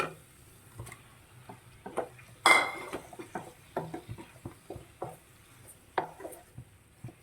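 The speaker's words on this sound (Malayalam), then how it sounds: "കഴുകി വൃത്തിയാക്കി വെച്ചിരിക്കുന്ന കണവ അല്ലെങ്കിൽ കൂന്തൽ നമുക്ക് ചേർത്ത് കൊടുക്കാം" Cleaned squid tipped into roasted masala in a pan for Kerala-style squid masala, giving a sharp clatter and sizzle burst followed by scattered close clinks and taps of a spoon against the pan, with no talking.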